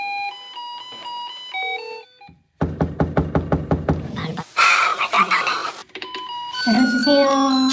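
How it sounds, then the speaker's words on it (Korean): A doorbell at an apartment door plays a short electronic chime melody, then a burst of sharp knocking or banging, followed by muffled voices and another chime, all close and fairly loud. "초인종을 눌러봅니다"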